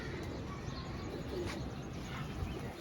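Soft, low cooing of pigeons repeats faintly against a steady background hiss, with a few light chirps scattered through.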